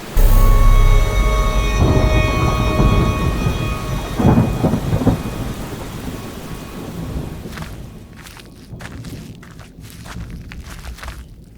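A heavy thunderstorm: a loud rolling rumble of thunder with steady rain hissing throughout, the storm easing into sparser dripping rain near the end.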